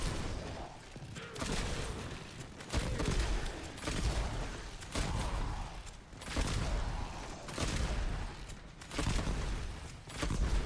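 Rapid bursts of gunfire from headshot shooting in the video game Warframe, with a weapon holding a five-round magazine, firing in repeated clusters roughly every second or two over a dense, continuous game soundscape.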